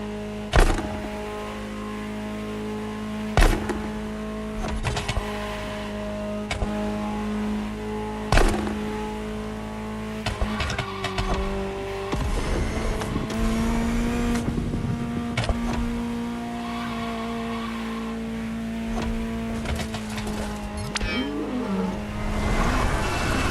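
A Ferrari supercar engine in the video game The Crew Motorfest idles and blips, then settles into a steady drone, punctuated by a few sharp clunks; no voices.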